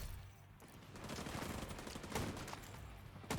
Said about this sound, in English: I mean, it's an AK rifle